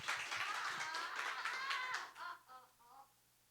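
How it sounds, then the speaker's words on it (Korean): Children at a Sunday school church service in Korea give a short round of clapping that fades out after about two seconds, followed by a few scattered voices, fairly faint overall. "다시 한번 박수."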